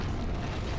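A rumbling explosion from the Danganronpa 2 video game, a dense low boom that fills the short moment alone and loud without any voice.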